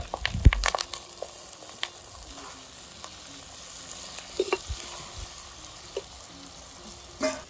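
Onions and green chillies with mushroom pieces frying in oil, a low crackle punctuated by sharp scraping and clattering knocks of a spoon against the pan, uneven and close.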